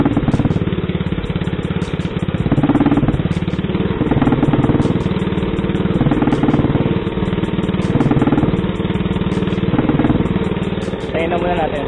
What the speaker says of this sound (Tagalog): So tumatahimik yung motor pag lumilit yung butas doon.